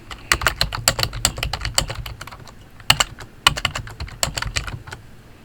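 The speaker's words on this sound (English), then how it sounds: "because I started typing" Keys clatter on a computer keyboard in quick, uneven bursts with short pauses, close and fairly quiet, no voices.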